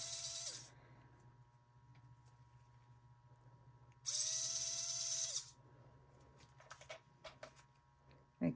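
A small handheld drill whirs in two short high-pitched bursts, reopening a resin-filled hole in a wooden washi-tape earring, close and shrill, with quiet clicks and handling noises in between.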